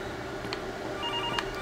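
Brief telephone rings sound inside a horror game house, a couple of short trills rising over a steady low hum of ambience, with no voices.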